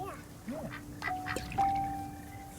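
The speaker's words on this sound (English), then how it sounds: "So I guess this is a family at the park feeding the ducks." Ducks quack at a park in the video game That Dragon, Cancer, with several short calls mixed with voices and bird sounds in a moderately busy outdoor scene.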